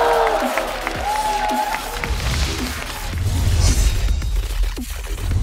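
Studio audience applause at a televised roast comedy show, a broad wash of clapping and crowd noise swelling steadily under music and a voice.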